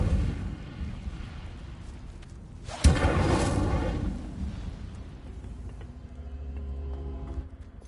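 The Incendio fire spell from Hogwarts Legacy lands as one sudden loud whooshing burst, then a rumbling roar that slowly fades over low background ambience.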